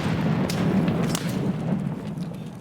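A grenade goes off in Escape from Tarkov near a doorway, a heavy, dense, close boom with a rumbling low tail that fills the short moment.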